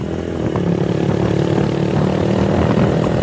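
A motorcycle fitted with a loud racing exhaust drones steadily nearby, a thick, continuous rumble that holds at full loudness without revving up or down.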